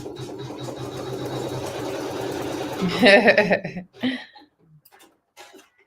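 A quilting sewing machine runs with a steady mechanical whir for about three seconds while stitching down a tack on a quilt, then stops, followed by a short burst of clatter and a few faint clicks.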